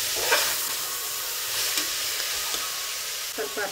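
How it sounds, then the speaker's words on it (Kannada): Ground masala paste for vegetable pulao fries in a pan with a steady close sizzle, and a spoon stirs and scrapes it now and then. "ತರ್ತರಿಯಾಗಿ ರುಬ್ಕೊಂಡಿರುವಂಥ ಮಸಾಲೆನ ಹಾಕ್ತಾಯಿದ್ದೀನಿ. ಹಸಿ ವಾಸನೆ ಹೋಗೋವರೆಗೂ ಚೆನ್ನಾಗಿ ಫ್ರೈ ಮಾಡ್ಕೋಬೇಕು."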